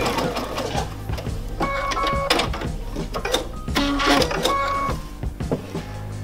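Sewing machine stitching a crazy patchwork strip: bursts of rapid mechanical whirring and clatter with brief pauses between runs, close and distinct, no talk.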